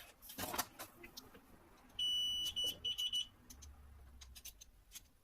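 A series of short, high electronic beeps from a meter testing the coils of a three-phase motor, some sustained, some clipped, over faint room noise and a brief rustle at the start.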